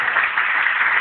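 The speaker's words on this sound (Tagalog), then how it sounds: "Palakpakan natin ang Panginoon." A church congregation applauds the Lord, a dense, steady wash of clapping that holds evenly through a brief burst with no voices above it.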